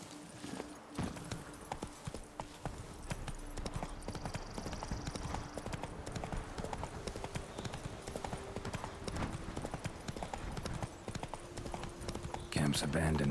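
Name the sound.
horse Roach hooves clip-clopping, from a video game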